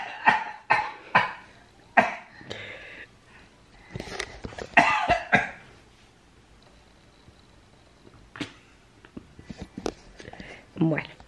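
Several short, throaty coughs come in a quick cluster, then a second burst follows a few seconds later, close and moderately loud, with someone speaking quietly between and after them indoors.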